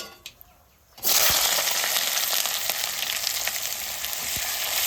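A brief quiet moment, then a loud sizzle bursts out as onion hits hot oil with fried cumin and keeps frying steadily, with a few scraping clicks.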